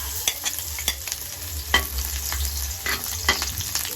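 Onion and garlic sauté in hot cooking oil for pancit guisado, giving a steady close sizzle broken by a few sharp scrapes of a spatula stirring the pan.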